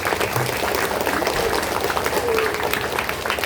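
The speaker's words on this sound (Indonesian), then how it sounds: "Kasih tepuk tangan dong buat Kak Toyib." Children at a Qur'an event for kindergarten and primary pupils clap together, a steady dense patter of small hands lasting throughout with a few voices mixed in.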